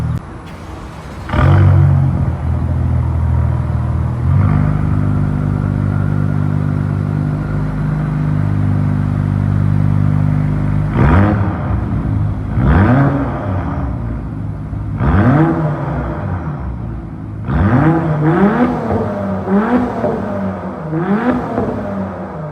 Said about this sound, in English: let you guys hear the exhaust